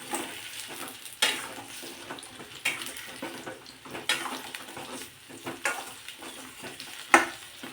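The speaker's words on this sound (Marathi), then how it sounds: "मध्यम आचेवर आपल्याला हे छान असे फ्राय करून घ्यायचे तेलामध्ये" Small potatoes for dum aloo frying in oil over medium heat, a steady close sizzle broken by several sharp scraping stirs of a utensil against the pan.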